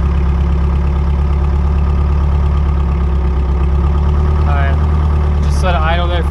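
A small, inexpensive excavator's engine idles loud and close with a steady, smooth low rumble throughout, and a voice speaks briefly near the end.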